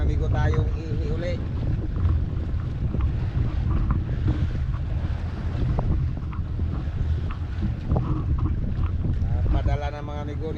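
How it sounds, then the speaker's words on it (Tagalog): A boat motor drones past amid gusting wind buffeting the microphone and sea noise, with voices faintly in the background. "napadaan na yung bangka na pinadalhan"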